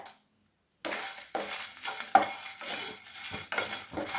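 Dried red chillies and curry leaves being roasted in a pan with urad dal for mustard chutney, heard as a series of dry scraping stirs with light sizzling after a brief silent start, close and without talk.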